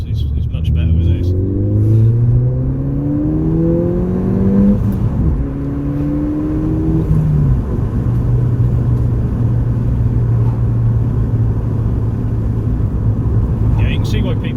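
A 2014 Ford Fiesta ST with an aftermarket engine/gearbox rear mount revs up and down through heel-and-toe gear shifts, its engine note sweeping upward in steps, then holding a steady drone from inside the cabin.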